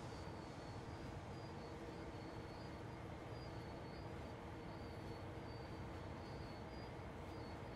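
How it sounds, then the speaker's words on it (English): A train passes at a distance under a continuous low rumble with faint intermittent squeals, steady and unbroken throughout, with no voices. "I was hoping that train would clear, but it don't look like it's going to."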